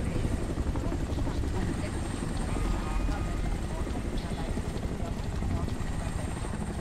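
Surveillance drone in the video game Homefront: The Revolution, a steady rotor-like drone hum close behind the player, continuous and fairly loud throughout with a constant mechanical buzz.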